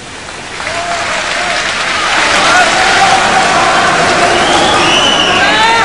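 An audience at a religious debate breaks into applause that swells within a couple of seconds into sustained loud clapping with some cheering, filling the hall.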